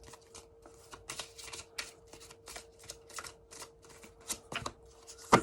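Oracle cards from a Nature Speaks deck being shuffled, a run of quick crisp riffling bursts in an irregular rhythm, close and fairly quiet, with a faint steady hum underneath and no talking.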